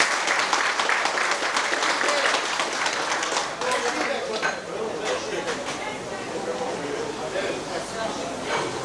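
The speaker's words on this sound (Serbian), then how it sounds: "I jedan aplauz molio vas za ovaj klub." A crowd at a radio amateurs' gathering in Brčko applauds a club with sustained, dense clapping that fades gradually over several seconds, close and fairly loud.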